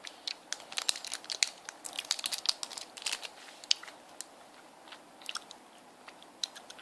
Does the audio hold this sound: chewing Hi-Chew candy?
yes